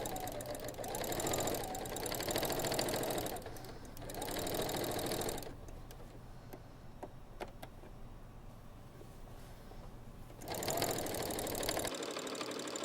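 A sewing machine stitches a throw pillow in bursts, its motor whirring loudly for a few seconds, pausing, then running again, with quieter handling sounds between runs.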